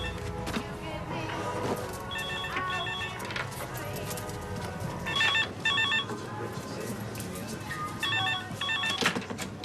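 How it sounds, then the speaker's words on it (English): A telephone rings in a domestic setting during a British TV drama, with short trilling bursts repeating at intervals over background music and room sound. "Stella! Phone!"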